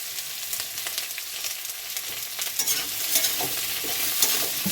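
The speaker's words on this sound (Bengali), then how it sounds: "আলুর সঙ্গে পেঁয়াজ কাঁচা লঙ্কা ভাজা ভাজা হয়ে গেছে" Potatoes with onion and green chillies fry in hot oil, a steady crackling sizzle broken by scraping stirs of a spatula, close and continuous, growing slightly louder toward the end.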